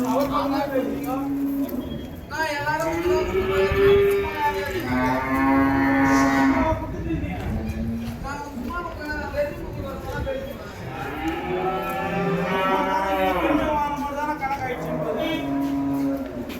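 Tethered cattle at Vaniyambadi cattle market moo again and again, long resonant calls close at hand, overlapping a steady background of people talking and market noise.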